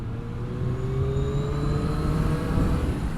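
A 2021 Triumph Street Triple R motorcycle engine drones steadily while riding on the road, its pitch slowly rising as it revs up through the gears, loud and continuous with wind noise.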